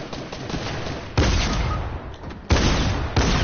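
Video game gunfire in three loud, abrupt bursts, each followed by a decaying rattle, with no speech.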